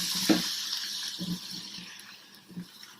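Green fava beans go into a pan with garlic and coriander, giving soft sizzling and stirring clatter with a few distinct scrapes and clinks over a steady faint hiss.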